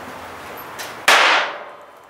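A capacitor bank charged to 212 volts discharges through an SCR into a 1k ohm resistor, giving one sharp, loud crack with a fading hiss, preceded by a fainter snap.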